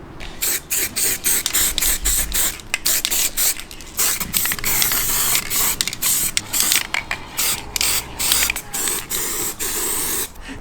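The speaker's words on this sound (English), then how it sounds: "we basically need to get it sprayed all silver now" Silver spray paint hisses from an aerosol can onto a cosplay prop in a series of short, close bursts, each a quick sharp spurt separated by brief gaps.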